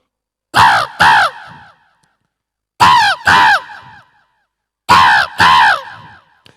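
A mimicry artist imitates a crow with his voice, giving three loud, close pairs of sharp double caws separated by short silences.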